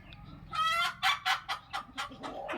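Golden hen calling in a run of loud, close, strident squawks and clucks, about eight bursts in quick uneven rhythm, alone without talk.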